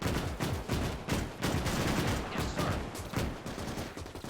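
Gunfire erupts in a World War II video game mod, rapid bursts of rifle and machine-gun shots crackling in quick succession at mid-distance, dense and continuous with no talking.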